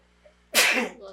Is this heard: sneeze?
yes